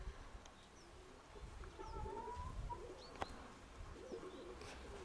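Domestic pigeons coo outdoors while other birds chirp, with a steady low rumble of wind or ambient noise underneath and no one talking.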